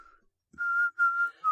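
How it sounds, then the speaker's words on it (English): Inward whistling, made by drawing breath in, gives a thin steady pitched tone in a few sustained notes with short breaks between them, close and clear with no talk. "he demonstrates his newly mastered technique of inward whistling"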